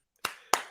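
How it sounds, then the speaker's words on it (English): Two sharp single claps of hands, close and distinct, spaced about a quarter second apart against near silence. "Round of applause for Badiashile."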